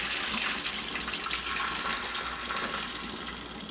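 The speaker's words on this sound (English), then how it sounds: "Let me move it to the side so you can actually see me pour out the liquid" Pasta water poured from a pot through a clip-on Snap 2 Strain strainer into a sink, a steady hissing splash of water for a few seconds, fairly close and alone.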